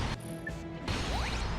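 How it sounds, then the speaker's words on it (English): Ice-encased enemies shattering from Ratchet & Clank's Liquid Nitrogen Gun, a sharp crash of breaking ice that bursts in abruptly after a brief quieter mechanical stretch, followed by a sweeping whoosh, close and loud with no talking. "once they turn into ice, they're going to shatter and die"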